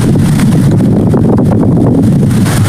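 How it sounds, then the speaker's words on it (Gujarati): Strong wind blows across a farm orchard, a loud constant rumbling buffet on the microphone with no pauses. "મસ્ત મજાનો પવન આવે છે મિત્રો બધી બાજુ"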